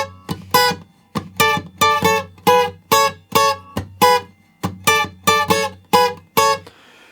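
Acoustic guitar plays the strummed chord line of a song, loud and close. Rhythmic chord strokes fall in a steady pattern with short gaps between them, and no voice is heard.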